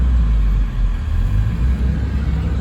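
A Kobelco SK140SRLC excavator's engine runs after a throttle adjustment. It makes a steady, deep, low rumble, loud and close, and holds an even idle.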